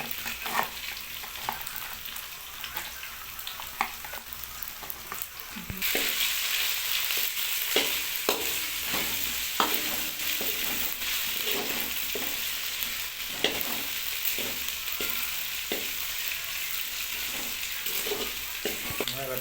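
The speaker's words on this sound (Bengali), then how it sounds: "আমাদের পেঁয়াজ ব্রাউন হয়ে এসছে এবারে আমরা আদ্রা রসুনের পেঁয়াজ দিয়ে নিচ্ছি" Browned onions fry in oil in a pan as ginger-garlic paste goes in for a chicken curry; the steady sizzle jumps louder partway through, with rhythmic stirring scrapes continuing over it.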